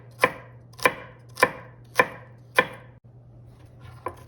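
A kitchen knife chops celery on a cutting board for marinara sauce: five sharp, evenly spaced strokes, then a pause and one lighter chop, close and loud with no talking.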